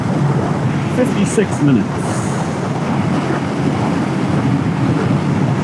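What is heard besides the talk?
wind noise while riding motorcycle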